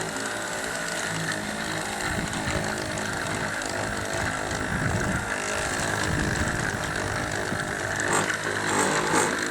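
A power buffer polishes a car headlight during a cheap restoration, running as a continuous loud, rough mechanical whir with a fluttering, uneven texture that holds steady throughout.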